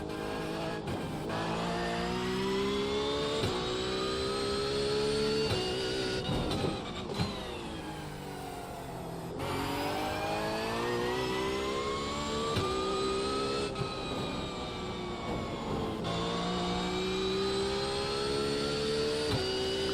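GT3 race car engine in the iRacing sim, a loud sustained roar with rising and falling pitch through shifts and revs, continuous and close throughout with no talk.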